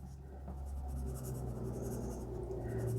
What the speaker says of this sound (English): It writes like a number 2 pencil, or perhaps a B grade pencil at softest.